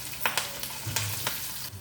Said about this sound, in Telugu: ఇప్పుడు పోపు వేగింది కదా